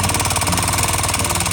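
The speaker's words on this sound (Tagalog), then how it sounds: "Eto na ata guys yung dumayo sa aming TMX 155 na sobrang ingay talaga ng makina niya." A Honda TMX 155 motorcycle engine runs very loud, close up, with a steady rough, throbbing idle and mechanical clatter that continues without a break.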